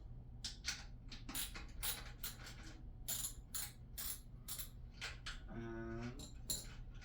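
A number 18 wrench loosening a bolt during assembly of a Vitilan U3, giving a run of quick ratcheting clicks and metallic creaks, close and fairly quiet with no talk.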